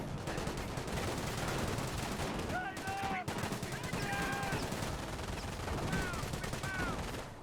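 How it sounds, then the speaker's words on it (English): Rapid gunfire bursts and machine-gun rattle from a Company of Heroes battle, layered over constant combat noise at moderate level, with short whistling sounds mixed in. "We have a lot of incoming fire."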